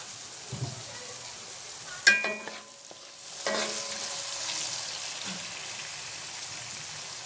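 Vegetables stir-frying in a pan for Chinese rice, a steady hiss with a sharp clatter of utensil scraping near the middle and sizzling rising again afterward.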